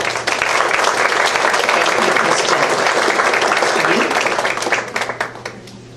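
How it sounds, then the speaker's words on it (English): At a school district Citizen of the Month ceremony, a crowd breaks into sustained applause for the students, loud and dense near the front, fading into scattered claps toward the end. "Let's give all our students another round of applause."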